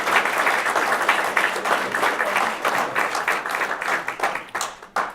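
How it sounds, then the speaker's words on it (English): A room of attendees at a furniture retailers' President's Club event applauds spouses and families, brisk close clapping that thins into scattered individual claps before stopping. "Join me in giving these important supporters a round of applause."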